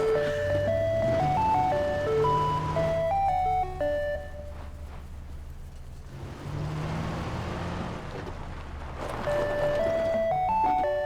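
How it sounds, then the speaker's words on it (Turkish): An ice cream truck in the video game PUBG plays its looping melodic chime while its engine runs underneath; the tune breaks off mid-clip then returns, loud and close, with no talk. "dur biniyorum, bindim dondurmacıya"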